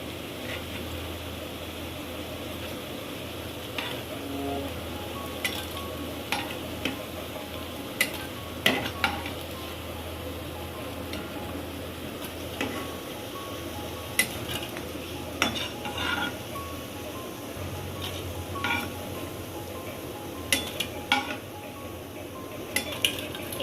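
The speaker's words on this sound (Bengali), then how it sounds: "এইভাবেই পুরো পকোড়াগুলো ভেজে নেব।" Pakoras frying in hot oil in a home kitchen: a continuous bubbling sizzle with scattered utensil clinks and scrapes against the pan, close and moderately loud, with no talk.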